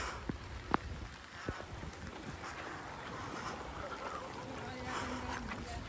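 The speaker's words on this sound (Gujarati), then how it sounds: "હાલ પણ ચાલુ જ છે વરસાદ." Steady rain patters across the whole stretch, a continuous wash of drops with a few sharper taps, in a flooded village, with no one speaking.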